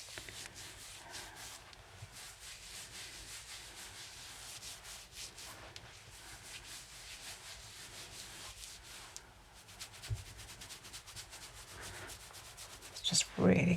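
Hands rub and knead a person's scalp and hair during an Indian head massage, making a steady close-up soft rustling that runs continuously with varying intensity, ending in a few louder brushing sounds.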